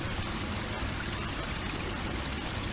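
A small waterfall and stream at Fairy Falls flows and trickles continuously, a soft, steady rushing of water heard alone at moderate distance.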